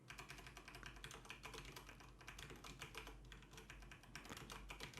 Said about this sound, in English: I have the Cherry MX Brown keyboards sitting roughly 30 centimeters behind the microphone